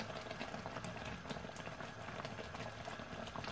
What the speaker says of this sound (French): la confiture là, elle commence à bien prendre, donc on continue bien à remuer pour pas que ça accroche